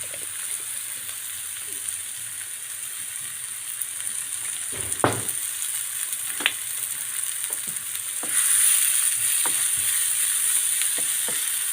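Leeks and onions sizzle steadily in olive oil in a frying pan, a continuous close crackle broken by occasional clicks and scrapes of stirring, with the hiss swelling briefly near the end; no one speaks.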